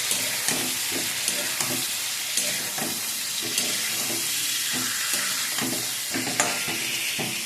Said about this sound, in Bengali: দিয়ে হালকা করে একটু নেড়ে নিয়েছি